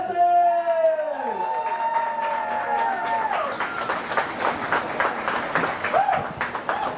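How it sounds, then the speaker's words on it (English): An audience bursts into applause and cheering as a speaker is welcomed to the stage, with sliding whistle-like tones at first and then a dense wash of clapping that carries on to the end. "Come on, one more round of applause,"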